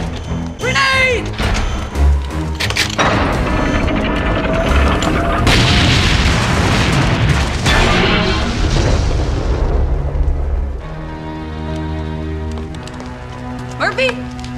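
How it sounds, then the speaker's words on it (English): A grenade blast from a RoboCop action scene booms loud and close, followed by a long rumbling, crackling aftermath of debris with dramatic music and voices underneath. "Grenade!"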